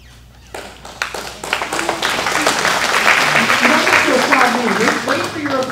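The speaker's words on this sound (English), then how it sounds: "And they're applauding here, of course." Audience applause at an indoor talk by a UCI constitutional law professor swells after a quiet start and holds steady and loud, with voices and cheering mixed into the clapping.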